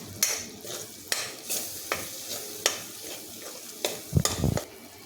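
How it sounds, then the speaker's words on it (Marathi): Paneer masala with turmeric and coriander powder gets stirred in a frying pan, a soft sizzle under repeated sharp spatula scrapes and taps against the pan, close up, with a brief cluster of knocks near the end, no talk. "आता याला चांगलं हलवून घेऊ."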